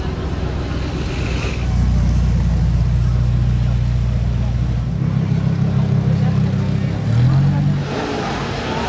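Audi RS7 engine and exhaust roaring as the car passes close by, the low throaty rumble swelling and holding for several seconds before a brief rising rev near the end, over constant street background.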